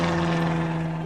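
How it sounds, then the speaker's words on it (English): A cartoon aeroplane's propeller engine drones steadily and loudly as a sound effect in a children's Peppa Pig story, with a strong low hum and no talking heard. "It is Daddy's pig turn to fly the aeroplane"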